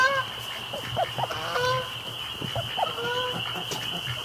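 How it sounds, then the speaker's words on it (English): Several geese flying directly overhead honk over a steady background hum, their calls scattered and moderately loud. "Oh, the geese are flying right over top of us."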